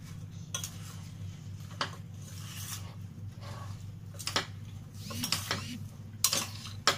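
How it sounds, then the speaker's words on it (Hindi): A metal spoon mixes and stirs long-keeping mango pickle dressed with vinegar in a bowl, giving soft scraping and clinking contacts with a few sharper knocks against the container, close and fairly quiet. "मैं चम्मच से मिक्स कर रही हूं"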